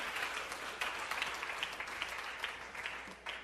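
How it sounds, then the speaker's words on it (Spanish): A church congregation at a Bible teaching gives a short burst of applause, a dense, fairly quiet clatter of many hands with a few sharper individual claps standing out. "vamos a regalar un aplauso al Señor"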